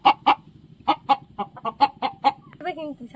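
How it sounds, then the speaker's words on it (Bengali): A village hen clucks in short repeated bursts close by, a choppy series of squawky calls ending in a drawn-out cackle, with no talk over it. "এই যে দেখুন, মুরগিটা বার করে নিয়েছি"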